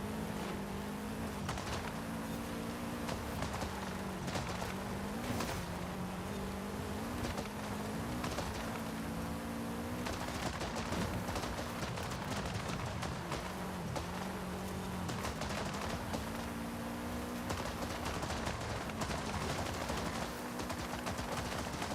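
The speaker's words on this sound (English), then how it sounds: "now I've got pops and bangs at the low end." Tuned car engine in the Forza racing game, revving steadily with rapid crackling exhaust pops and bangs at low revs, loud and continuous for the whole stretch with no speech.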